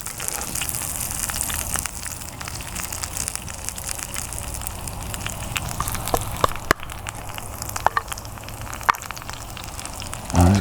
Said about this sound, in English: you can hear those sizzling away nicely